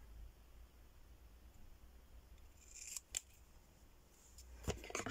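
Scissors snipping around the edge of decoupaged paper for a journal cover belly band, a few brief crisp cuts near the end against quiet room hiss.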